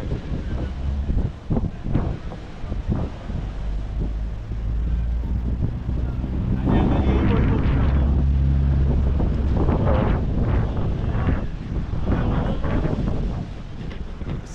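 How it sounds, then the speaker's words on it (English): Strong wind buffets the microphone outdoors in Trinidad and Tobago, a continuous low rumbling roar with gusty swells throughout, loud and close with no clear speech. "It's a bit windy"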